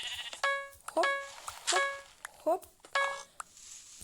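Sheep in a video game bleat repeatedly in short, wavering, nasal calls, about five spaced through the stretch, with faint background noise between them.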